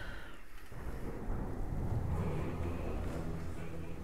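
A thunderstorm rumbles through World of Warcraft, with steady low rolling thunder and rain-like wash filling the scene at moderate loudness and a faint voice-like element in the mix.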